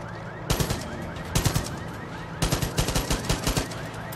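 Bursts of rapid automatic machine gun fire in Far Cry 5, loud and close, with short pauses between volleys and a steady rumbling background.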